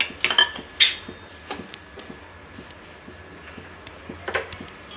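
A frying pan is set on a kitchen stove with a couple of sharp metallic clanks near the start, followed by quieter scattered taps and clinks as oil is added, close and brief.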